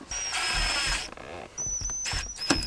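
Power drill driving screws into a car's interior during pedal installation, with two short, loud, close whirring runs separated by a brief pause, the second ending in a squealing rise.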